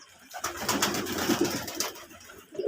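Desi pigeons kept for sale coo in a soft, continuous throaty rumble close by, layered with a few fuller coos and light rustling, with no talk.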